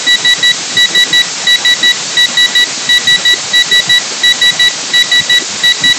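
A homemade pressure cooker whistle counter gadget sounds its alarm: loud electronic beeps in quick groups of three, repeating at a steady rhythm with short gaps between each burst.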